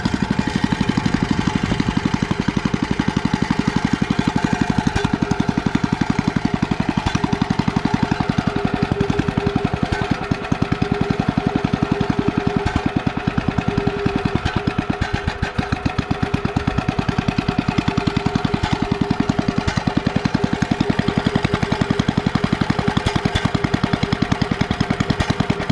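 A small gasoline engine on a Troy-Bilt tiller cultivator runs rough and uneven for a long stretch, loud and close, its choppy idle surging and knocking as if starved of fuel.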